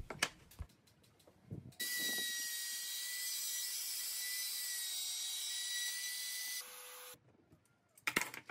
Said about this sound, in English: With the trimmer, I'll add a couple of grooves on the middle and lower step.